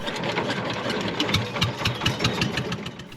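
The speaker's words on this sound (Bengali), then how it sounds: "তার ছোট্ট নাতিটা এক ঝটকায় ইঞ্জিনটা চালু করলো।" An engine on a small boat on the Jamuna River runs with a rapid, even putter of knocking beats, moderately loud and near, steady throughout.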